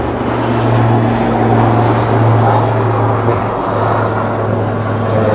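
A helicopter passes close by with a loud, steady rotor and engine drone. It holds for several seconds and slowly shifts as it moves, with no speech over it.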